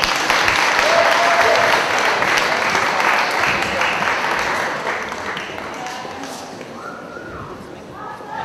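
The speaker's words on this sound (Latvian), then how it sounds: "Tad aplausi 10 B klasē." Steady applause from a crowd of school students filling the room, loud at first and gradually tapering off, with some chatter mixed in.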